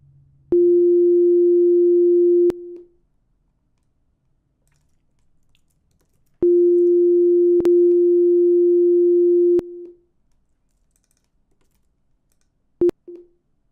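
Pure sine-wave notes generated by HTML5 WebAudio code in a browser: two steady, clean electronic tones lasting a few seconds each, with audible clicks where they start and stop, then a very short blip at the end.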